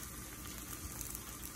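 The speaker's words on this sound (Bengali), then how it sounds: "পেঁয়াজ এবং আদা রসুনের যে পেস্ট, সেটা কিন্তু একটু ভাজা ভাজা হয়ে গেছে" Onion and ginger-garlic paste fries in a pan with a soft, steady bubbling sizzle, quiet and continuous with no talking.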